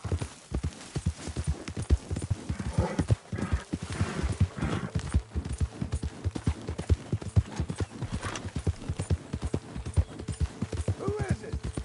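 A horse gallops in the Red Dead Redemption 2 video game, its hooves beating a fast, steady rhythm up close throughout, with snorts, a whinny and a voice over the hoofbeats.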